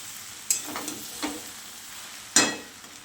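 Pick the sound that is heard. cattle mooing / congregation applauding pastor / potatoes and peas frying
potatoes and peas frying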